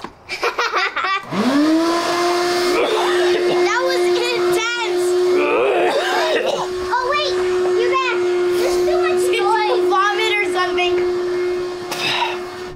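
A vacuum cleaner runs steadily and loudly from start to finish in a shed being turned into a playhouse, its drone continuing under excited children's voices and laughter.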